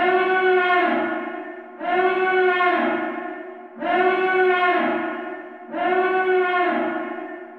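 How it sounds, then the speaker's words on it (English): A classic Imperial alarm siren from the Mandalorian trailer, a harmonic wailing tone that rises and falls in four even cycles of about two seconds each, loud and echoing with no voices. "some stormtroopers running through a corridor with a classic Imperial siren playing"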